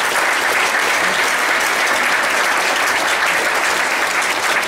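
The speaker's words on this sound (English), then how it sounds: "So how about another big round of applause for the Yuba College Highland" A large audience gives sustained, loud applause for the Yuba College Highland Band, a dense steady roar of clapping that holds at full strength for the whole stretch.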